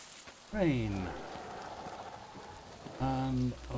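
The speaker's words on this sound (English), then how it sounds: "Rain." Steady rain falls in the Metro Exodus video game, a continuous soft hiss of drops hitting surfaces, with two short tonal voice-like bursts rising over it near the start and end.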